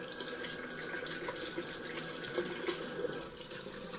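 Hot shower water runs steadily as a continuous hiss of spray, with faint splashes and drips scattered through it, close and even in level.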